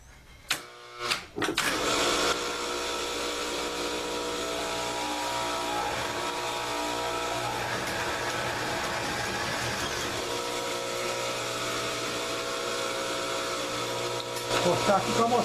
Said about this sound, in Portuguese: Eu vou ligar a máquina agora e nós vamos ver como que vai sair aqui